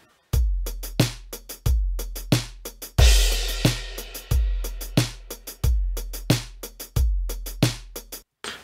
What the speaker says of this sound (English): I've uploaded a drum track and it sounds like this.